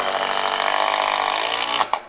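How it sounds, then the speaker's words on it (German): A power drill running steadily with a high, buzzing whine for about two seconds before it cuts off with a couple of clunks, loud and close with no talking. "Nee, Bohren ist absolut scheiße."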